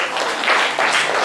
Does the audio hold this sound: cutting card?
no